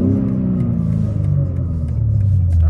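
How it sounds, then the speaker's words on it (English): A BMW M3 engine rumbles steadily and loudly up close before burnouts, a deep, even idle burble that holds without any voices. "So we're gonna go for a ride and do some burnouts."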